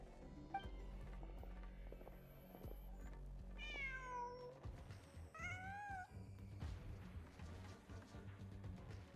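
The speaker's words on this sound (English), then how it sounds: "Just a cat." A cat in the video game Genshin Impact meows twice in quick succession, clear high mewing calls over a low game ambience with faint background thumps.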